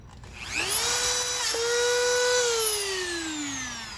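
A Dremel rotary tool fitted with sandpaper, working on a 1966 Ford Mustang, spins up to a high steady whine, holds for about two seconds, then slowly winds down, close and with no talk.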